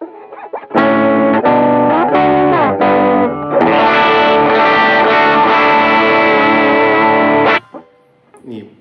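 An electric guitar on the bridge pickup runs through a pedalboard with distortion, chorus and echo, playing a few choppy strums and then a long ringing chord that cuts off, loud and close.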